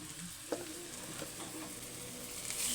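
Onions sizzle in a hot pan with turmeric and ginger-garlic paste stirred in, a steady close frying hiss broken by a few scraping stirs, with no voices.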